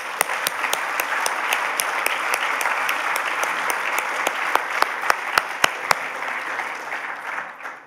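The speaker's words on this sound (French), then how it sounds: "Je pense qu'on peut les applaudir" An audience at an awards ceremony breaks into steady applause, a dense continuous wash of clapping with a few sharp nearby claps standing out, tapering off at the end.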